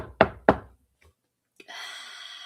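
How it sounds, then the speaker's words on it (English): Two firm, close knocks on a door in quick succession, followed by a short pause and a faint steady hiss. "Now you knock on the door."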